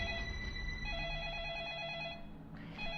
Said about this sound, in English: or maybe we get a phone call.